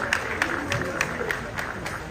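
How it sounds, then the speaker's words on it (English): A crowd applauds in celebration of the Asante King Otumfuo Osei Tutu II at an official opening in Tekyere, steady clapping from many people with a few sharp, regularly spaced louder claps standing out. "Please, a round of applause in celebration of our King."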